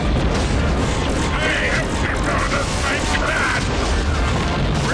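Torpedo explosions in the space combat game Wing Commander: Standoff make heavy booming rumbles amid a steady dense engine roar, with someone talking over them.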